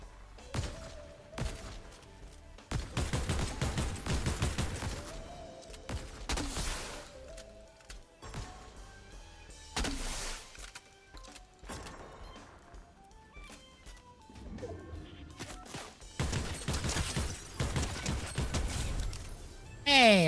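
Gunfire in the video game Fortnite, repeated bursts of shots and impacts crackling in clusters over about twenty seconds, loud and close, with a voice talking at times between them.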